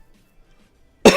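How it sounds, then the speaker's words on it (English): A single sharp cough bursts out at the very end after a near-silent stretch, loud and close. "my bad for coughing"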